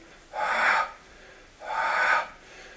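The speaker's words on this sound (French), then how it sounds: "on souffle" Two separate forceful breaths blown out during an abdominal exercise in a circuit-training workout, each lasting about half a second with a pause between, close and clear with no talking.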